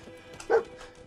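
Dogmeat, the dog companion in the Fallout 4 video game, gives a single short bark, close and clear over faint game ambience.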